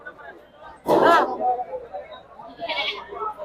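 Goats at a livestock market: a loud bleat nearby, followed by a fainter bleat moments later amid a low murmur of background noise.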